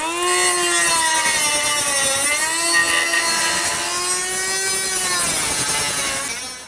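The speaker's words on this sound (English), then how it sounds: "I'm going to use this cordless Ingersoll Rand cutoff tool and get going" A cordless Ingersoll Rand cutoff tool grinds through a rusted exhaust pipe on a 1997 Ford F-150, a loud, close, high whining cut that wavers in pitch as it bites, then tails off.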